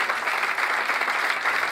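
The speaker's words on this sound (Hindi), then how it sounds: "हालेलुया, जोरदार तालियां बजाएं" Loud applause fills a church at an anniversary service, the congregation clapping in a thick, continuous wash that stays even from start to finish.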